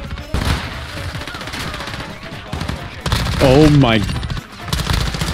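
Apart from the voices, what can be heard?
SMG gunfire in a video game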